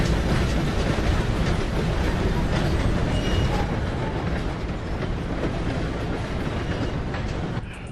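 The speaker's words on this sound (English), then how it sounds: "Gotta beat that train, Morgan!" A loud train rumbles past with steady clattering wheels and dense broadband roar that eases slightly toward the end.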